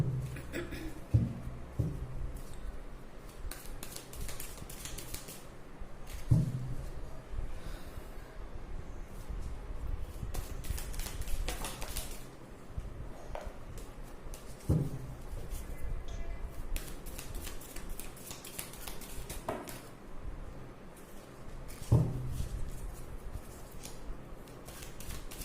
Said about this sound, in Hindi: मैं कार्ड शफल करूंगी